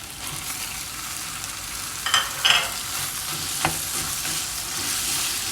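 Tomatoes and ginger garlic paste fry in a pan for a potato peas masala gravy, a continuous hissing sizzle with a couple of brief sharp spatters and stirring scrapes partway through.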